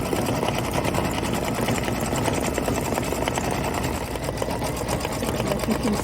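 An embroidery machine stitches through Mylar on a Kimberbell Cup of Cheer quilt block, a steady, loud mechanical whirring and rapid needle clatter running continuously and close up without a break.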